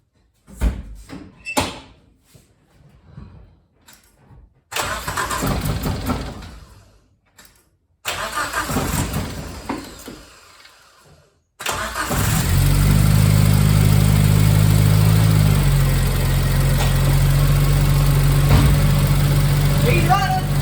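A Geo Tracker engine cranks through several short bursts with pauses, then fires and settles into a steady, loud idle that runs to the end. Brief knocks and speech-like sounds come before it catches.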